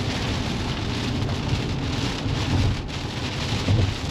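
Steady rain pours down on a road trip into Mesopotamia, a dense continuous hiss of drops with low rumbling underneath, constant and close throughout with no voices.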